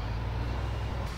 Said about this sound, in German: Motor starten.